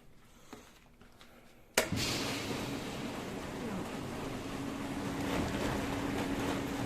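After a sharp click, a washing machine drum starts spinning, a loud steady rushing whirr with a faint hum building slightly over time.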